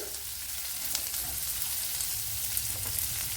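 Onions sautéing in a pan for a corn masala puttu: a steady, close broadband sizzle with faint scraping clicks, continuous throughout with no talking.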